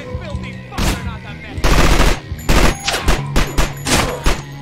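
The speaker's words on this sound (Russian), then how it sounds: "Кто стреляет?" Gunfire in the video game Manhunt, loud bursts of automatic and single shots clustered in quick volleys with thuds, close and dense, while someone speaks over part of it.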